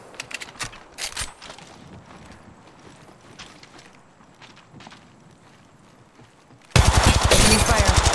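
Enemy gunfire in the shooter game Apex Legends: scattered distant shots crackle over a low game-ambience bed, then a loud, sustained burst of rapid close-range fire erupts at the end.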